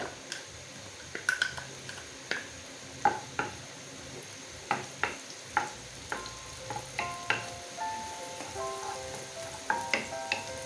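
Minced garlic sizzling in melted butter in a pan, a soft crackling hiss up close with a regular series of light taps and clicks from a utensil and a few faint tonal rings, with no one speaking.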